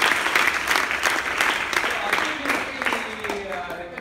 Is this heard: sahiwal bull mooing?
no